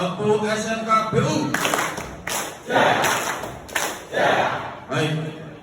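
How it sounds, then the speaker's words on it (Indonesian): A crowd of SMK Bina Utama students performs its school clapping cheer in repeated loud bursts of group claps and chanting, with a voice heard at the start before the clapping begins. "Tepuk SMK BU."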